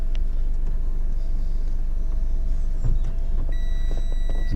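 Power-operated soft-top roof of a 2.0 Mazda MX-5 Sport Tech roadster retracting, a close steady electric motor whir with mechanical clunks and faint beeping tones near the end.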